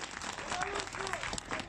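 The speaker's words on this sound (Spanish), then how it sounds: "Se oyen aplausos en otro barrio turco." A crowd applauds in a Turkish neighborhood after a rescue, steady clapping spread over the whole stretch with voices mixed in underneath.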